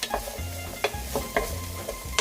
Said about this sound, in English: So we will just give them a good mix like this